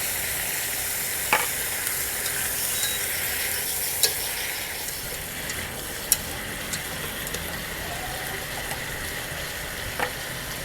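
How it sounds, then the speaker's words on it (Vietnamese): Steady sizzle of seasoned duck meat stir-frying in a pan, with occasional clinks and scrapes of a utensil stirring, no talking. "Đảo để cho nó thơm, ngấm một chút gia vị"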